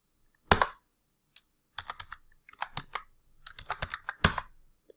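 Keys on a computer keyboard are struck close up in short, irregular bursts, crisp and clear against near silence, with a couple of isolated taps before a quicker flurry of keystrokes.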